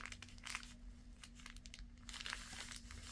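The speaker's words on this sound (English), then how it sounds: "we're going to fold this up, and we're going to fold it over again" Paper bag being folded over and creased, continuous crinkling and rustling of stiff paper close by, with bursts of louder crackle near the start and end.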